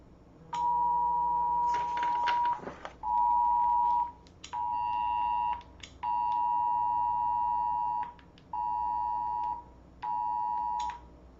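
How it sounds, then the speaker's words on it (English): A phone beeps in a quiet outdoor spot near a mountain base, giving a repeated electronic tone in six evenly spaced long pulses with short gaps, clear and fairly loud over faint background hiss. "Forgot to shut that phone off."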